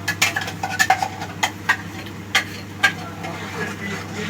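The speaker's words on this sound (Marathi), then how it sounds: "छान असे आपले मसाल्याला तेल सुटेपर्यंत आपण हे मसाले परतून घेऊया." Spices stir-fried in oil for prawn masala, with a spoon scraping and clinking against the pan in an irregular rhythm over a soft, constant sizzle.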